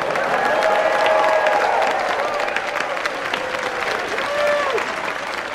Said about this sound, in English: Would everyone give the seniors a round of applause?